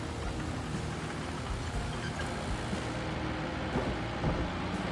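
Steady rain falls in the Roadcraft game, a dense continuous hiss of drops spread evenly across the clip with no voices over it.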